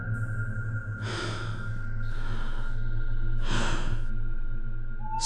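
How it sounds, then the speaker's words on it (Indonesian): Slow, heavy breaths drawn in and let out, a few long swells over a low steady hum, as a sound effect in an Indonesian horror radio story set in a truck on an unfinished toll road. "dari kursi belakang, terdengar suara napas pelan. Lembut,"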